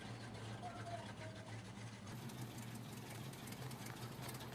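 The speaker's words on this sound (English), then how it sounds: "I mean, listen to the sound of the engine. It's just perfect." An old ZIL 130 truck engine idling in a farming game mod, a steady low rumble that hums continuously at low volume with no other sounds breaking in.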